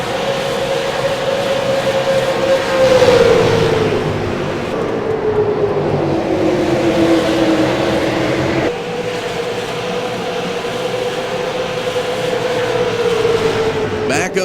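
Race cars at Lucas Oil Raceway in a SARA Super Series event roar past in a sustained, loud engine drone that rises and falls in pitch as they pass and fade, with a second swell later on.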